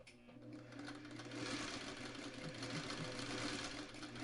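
A sewing machine stitching quilt blocks with good sides together using a quarter-inch foot, a close steady mechanical whir running continuously, louder in the second half.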